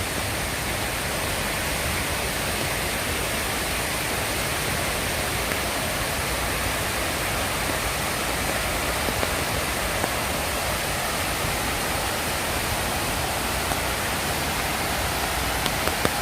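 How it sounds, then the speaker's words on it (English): Heavy rain pours down over New York City on a super cloudy night near the World Trade Center, a dense, unbroken hiss that stays loud and even for the whole stretch with no talking. "what can we see through this heavy rain and super cloudy sky"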